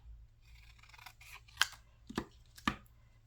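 Scissors trimming paper for small envelope pockets: three or four crisp, close snips after a soft rustle of handled paper, quiet surroundings and no talking.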